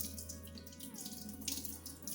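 Water drains from washed quinoa into a kitchen sink, a soft continuous trickle and splash with faint gurgling, quiet and close, with no talk over it.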